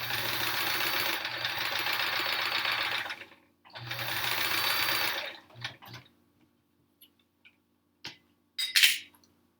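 A sewing machine stitches rows of a Triangle Tango quilt in two loud, steady bursts of rapid needle chatter separated by a short pause, followed by quieter clicks and handling sounds near the end.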